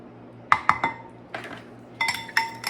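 Whisk or spoon clinking against a mixing bowl while vanilla and buttermilk are hand-mixed into beaten eggs for a Texas sheet cake, a few sharp clinks, then a pause, then another cluster of taps, close and fairly quiet.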